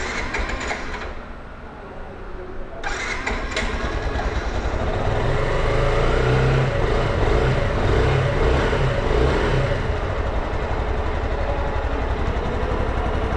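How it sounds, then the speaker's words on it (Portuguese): A Crosser motorcycle engine turns over and catches, then settles into a steady, fairly loud running note with some mechanical clatter, close by and with no speech. "E a moto não pega, pessoal."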